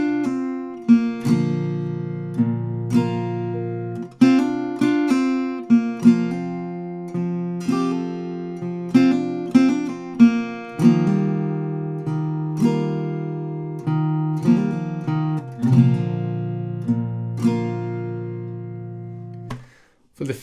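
An acoustic guitar plays the I Took A Pill In Ibiza riff by Mike Posner, a steady run of plucked notes and strummed chords that ring and decay; clear and close, no talking over it.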